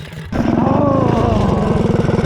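A mini bike engine straining on a hill climb in an enduro race, starting abruptly into a loud, close, steady buzzing roar with a rapid pulsing rhythm.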